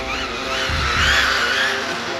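A small MJX Hyper Go 14303 RC car on a 3S battery drifting hard, its tires skidding and squealing in a continuous, loud, wavering screech over a buzzing high-pitched electric motor whine, close by.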